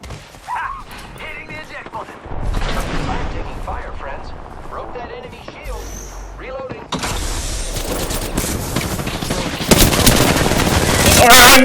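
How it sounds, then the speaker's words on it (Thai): Explosions and heavy gunfire from an Apex Legends firefight form a dense, loud, continuous barrage that swells in intensity toward the end, with voices mixed in. "ระเบิดโอ้โห"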